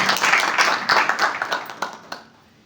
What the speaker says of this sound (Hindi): भाई अमन शुक्ला का स्वागत कीजिए जोरदार तालियों से